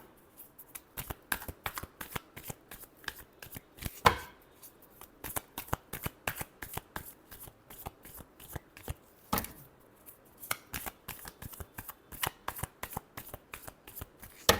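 Tarot cards are shuffled by hand, close up, in long runs of crisp rapid flicks and slaps with brief pauses between rounds, fairly quiet and with no talking.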